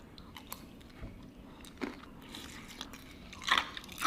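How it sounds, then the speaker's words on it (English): Someone bites and crunches ice from a fancy coconut water drink, with several sharp, close crunches scattered over quiet chewing and faint background noise. "Am I supposed to chew the ice?"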